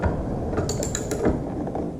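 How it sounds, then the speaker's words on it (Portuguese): A lever turned on a grain moisture analyzer to release its sample holder, giving a few light mechanical clicks and ratcheting clacks over low room noise, close and moderate. "Aqui eu vou ter que virar minha alavanca para liberar então o meu porta-amostra."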